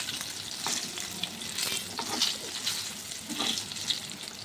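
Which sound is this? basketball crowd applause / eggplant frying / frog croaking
eggplant frying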